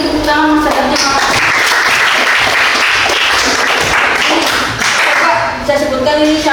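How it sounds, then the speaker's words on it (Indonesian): A crowd applauds continuously with dense clapping throughout, a voice briefly audible over it near the start and end. "sekali lagi tepuk tangan Mas Adar"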